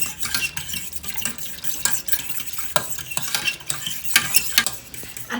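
A utensil stirs sauce with added milk in a pan on the heat, making repeated close scraping and swishing strokes in an uneven rhythm with faint clinks against the metal.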